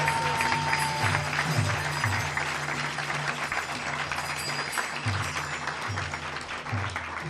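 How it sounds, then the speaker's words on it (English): Audience applause for Damodar Kumar at a Krishna devotional gathering, a steady, dense clapping from a sizable crowd that fills the whole stretch with no voices over it. "So let's give a nice round of applause to Damodar Kumar."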